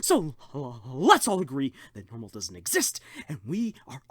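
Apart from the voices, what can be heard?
No distinct noise like a dog, phone or traffic.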